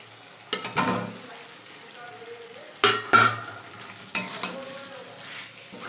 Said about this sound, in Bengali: তো মশলাটা আমার কষে গেছে, আমি এর মধ্যে আলুগুলো দিয়ে দেবো।